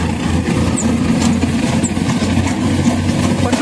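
A tractor-driven Jangir Excel Flow thresher runs on soybeans, making a continuous loud mechanical drone and hum that stays steady and close throughout, with no talking.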